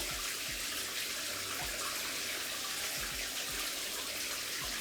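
Steady broadband water rush from a tap or shower runs throughout while hair is washed with Hask Biotin Boost shampoo, with faint low thumps underneath and no talking.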